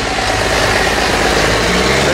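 A Massey tractor's engine runs steadily and close by at a tractor run, a continuous low rumble with voices talking over it.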